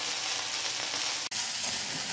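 Okra frying in a pan with beaten egg to be added, a steady close sizzle throughout, briefly cut by a sharp dropout near the middle before the hiss resumes at the same level.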